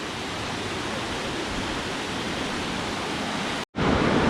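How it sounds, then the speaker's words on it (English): A waterfall in Kinlochleven near Glencoe in the Scottish Highlands roars as a dense, steady broadband rush of water, loud and close, briefly cutting out near the end before resuming. "So a waterfall just down here."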